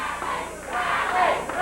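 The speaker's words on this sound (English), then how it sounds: "Crybaby is what the crowd is yelling." Wrestling arena crowd at a USWA show loudly chanting "crybaby" in unison, a dense roar of many voices filling the space continuously.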